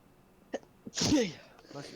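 A single sharp sneeze bursts out near the mic, preceded by a couple of small intake sounds, in an otherwise quiet room.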